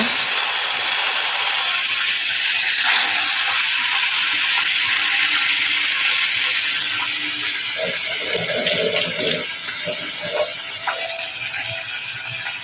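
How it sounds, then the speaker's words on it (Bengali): Steady loud sizzling and crackling of fish frying in hot oil, continuous throughout with a hissing texture and faint bubbling. "তেলটা গরম হয়ে গেছে এবার মাছগুলো ভেজে নেব"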